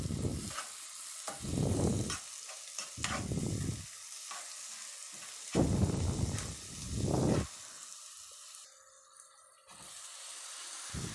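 Vegetables and meat are stirred in oil in a frying pan, a soft sizzle under repeated scraping, rustling sweeps of the spoon in an uneven rhythm, then a quieter stretch.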